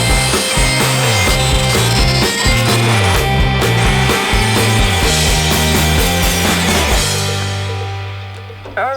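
Wooden roof deck pieces for a van being cut in half lengthwise with a saw, a loud, close, grinding cut with a rhythmic rise and fall of strokes that eases off and stops near the end.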